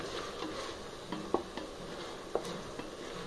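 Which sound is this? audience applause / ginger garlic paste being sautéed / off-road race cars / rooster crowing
ginger garlic paste being sautéed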